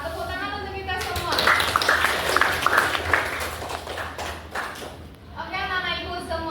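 A classroom of children claps hands for a short burst during an ice-breaking session, crisp rapid claps rising under a teacher's voice, which speaks before and after.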